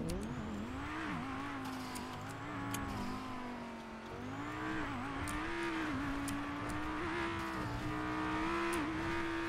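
A car drives in the video game GTA V, its engine droning loudly and steadily while the pitch climbs and dips with repeated revving and gear changes, with small clicks scattered through it and no talking.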